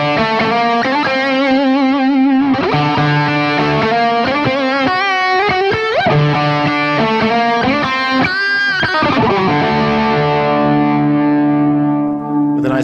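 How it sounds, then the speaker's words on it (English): Electric guitar played through a tube-driven distortion device with full gain, warm and fat with bite, loud and continuous with sustained notes and chords, no talking. "it's a tube-driven distortion device, so it has another really nice,"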